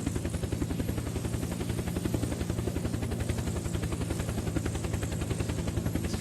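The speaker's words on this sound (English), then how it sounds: "I do not want to land this helicopter in the water." Helicopter in the game Unturned with fast, steady rotor thumping and a low engine drone, loud and continuous throughout as it flies and comes in to land, with no voices.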